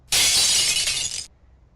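Glass shatters in one loud, bright crash lasting about a second, sharp shards ringing together before cutting off to near silence.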